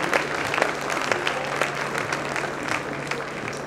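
An audience at a show jumping event applauds in a dense, steady wash of clapping that holds through the whole stretch at moderate loudness, with a faint voice underneath.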